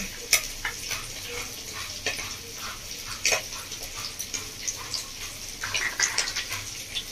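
Spices being stirred and mixed in a pan for a Bengali fish curry with panch phoron, a soft scraping and sizzling texture with intermittent clinks of the spoon, fairly faint and close.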